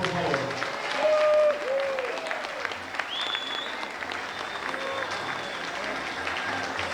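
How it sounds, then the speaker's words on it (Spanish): Sustained applause from a crowd at a queen pageant in Jutiapa, a dense patter of clapping that swells early and then continues steadily, with some faint voices mixed in. "Un fuerte aplauso de todos ustedes"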